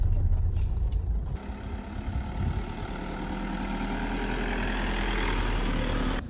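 Manual car engine with a steady low rumble, rising as the driver eases onto the gas and slowly lets out the clutch to pull away smoothly; a brief louder burst at the start, then a continuous near, even drone.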